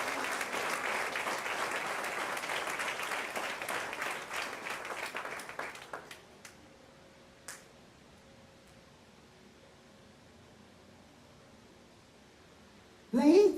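A church congregation at a Spanish-language sermon claps loudly and steadily for about six seconds. The clapping thins out and fades into near silence, and a voice cuts in briefly at the end.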